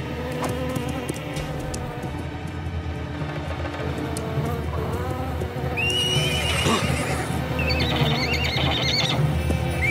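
Frightened horses whinny and neigh loudly several times, with hooves shifting and buzzing insects in the background.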